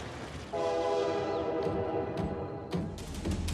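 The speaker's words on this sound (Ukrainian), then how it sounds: "Увага! Наближається останній поїзд." A train approaches in a cartoon scene, its horn sounding a sustained, loud multi-tone blast over low rumbling, with sharp clanks and rail noise building toward the end.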